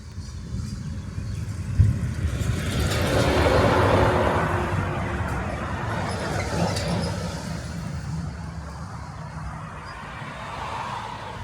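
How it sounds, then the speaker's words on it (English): Trucks and road traffic passing close by, recorded in stereo: a broad rushing roar swells as a vehicle goes by, fades, then another rises, with a continuous traffic rumble underneath. "So you should have heard those trucks go by in glorious stereo."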